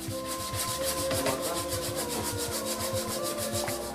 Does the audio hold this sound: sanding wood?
yes